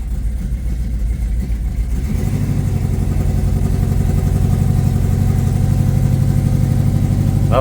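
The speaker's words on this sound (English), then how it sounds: "Okay, let's put her in drive." A 1986 Oldsmobile Cutlass with an LS engine swap is put into drive and pulls away, its loud, close, rough engine note rising steadily as it accelerates.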